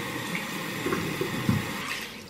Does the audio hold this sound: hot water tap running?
yes